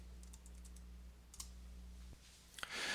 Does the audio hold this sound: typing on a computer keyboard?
yes